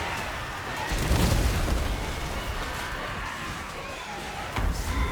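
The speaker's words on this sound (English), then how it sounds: "More magic missiles." Magic missile spells strike units one after another in a Warhammer fantasy battle, a steady rumbling barrage of booms and bursts with a heavier impact near the start and another near the end, dense and continuous.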